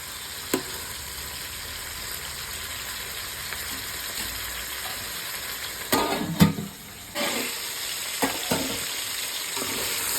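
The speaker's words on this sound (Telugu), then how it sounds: "మూత పెట్టుకొని కొంచెం సేపు ఆయిల్లో ఉడకబెట్టుకోవాలి" Vegetables for Telangana-style sambar cook in oil in a covered pot, giving a steady soft sizzle with a few louder stirring clatters and bumps midway, no talking.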